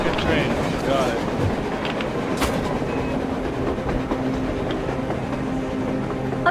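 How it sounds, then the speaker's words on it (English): A train rumbles past on the surface in the video game Metro Exodus, a steady, dense rail roar with rolling clatter that holds for the whole stretch, with voices speaking over it. "A train! A damn train on the surface!"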